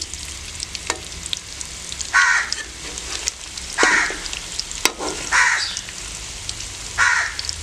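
Potatoes frying and browning in a pan for Kashmiri dum aloo, stirred at intervals: a steady sizzle with four regular scraping bursts roughly every 1.7 seconds, close and moderately loud, no talk.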